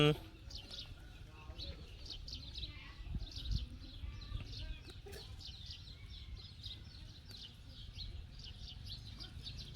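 Chickens cluck and chirp in repeated short calls at a farm where vegetables are picked in the morning, moderately close over low background rumble and faint voices.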